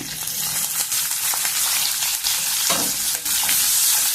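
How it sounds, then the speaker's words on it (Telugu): Small onions fry in hot oil with mustard seeds, cumin, dried chillies and curry leaves for a brinjal masala curry, giving a loud, steady sizzle broken by occasional stirring scrapes. "కొంచెం వేగనిద్దాము ఉల్లిపాయల్ని."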